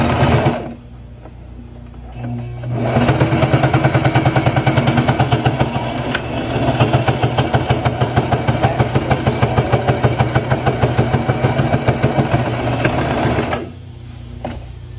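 A sewing machine driving slowly through a thick stack of many fabric layers, starting after a pause and then running steadily in a loud, even stitching rattle for about ten seconds before stopping.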